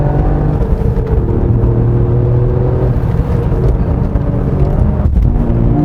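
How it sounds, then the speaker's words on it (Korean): A turbocharged Toyota GR Yaris engine revs loudly from inside the cabin on a winding mountain road, a rising, whirring drone that climbs and holds through the rev range without a break. "3000rpm을 넘어가야 비로소 좀 엔진이 신나네요."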